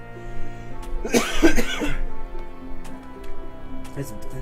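A single close, harsh cough burst stands out, followed by quieter throat sounds and faint background noise.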